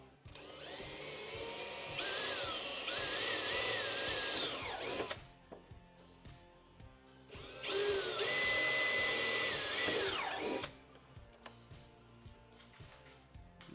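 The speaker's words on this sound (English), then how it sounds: "Careful not to send your drill bit through into the back of your tour pack here." A power drill bores into a 2024 Harley-Davidson Road Glide tour pack during a trunk light install, two steady whining bursts a few seconds each with brief pauses and small clicks between.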